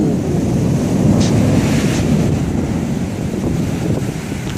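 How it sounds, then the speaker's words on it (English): Wind-driven rain lashing a third-floor parking deck during a severe thunderstorm with winds over 70 mph, a loud steady roar of wind and rain with gusty buffeting that holds throughout. "Look at that wind-driven rain."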